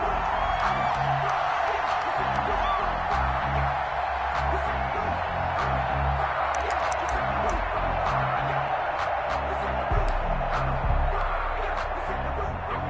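A stadium crowd in a PS4 NFL football game between the Browns and the Packers roars steadily as the home team holds on fourth down, a dense, continuous wash of cheering with scattered whoops under a commentator's voice.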